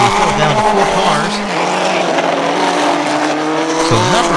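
Mini mod race cars roar around an oval track, engines revving and rising and falling in pitch as they pass close by, loud and continuous, with tires squealing and a commentator's voice over the engines.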